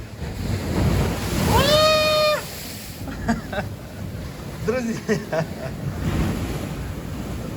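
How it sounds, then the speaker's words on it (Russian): Big sea waves break against a concrete shore on the Crimean coast, a heavy surging wash with wind noise, while people talk close by between the surges. "Из-за того, что здесь бетон, получаются вот такие большие волны."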